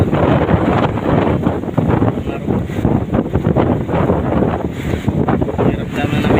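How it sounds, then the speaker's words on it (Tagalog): Strong wind and rough waves at sea, heard from aboard a boat as a typhoon approaches: loud, continuous gusting roars across the microphone, with the sea churning underneath. "dahil mas di na kaya ang alon at ng hangin"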